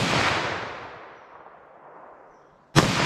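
A 9mm+P Underwood 115 gr Nosler JHP handgun round fires with a sharp, loud crack at the end, following the fading echo of an earlier shot; no talking.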